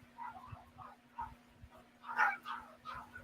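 A dog barks repeatedly in short, uneven yips and woofs, somewhat distant and faint, building to a louder burst of barking partway through, over a low electrical hum.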